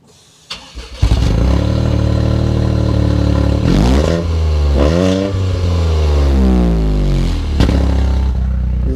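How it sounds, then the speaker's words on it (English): A Toyota GR Corolla with a triple exhaust starting up and then revving: a loud, close engine with two sharp rising blips around the middle and a rumbling idle between and after them. "Around back, we have triple exhaust pipes that sound like"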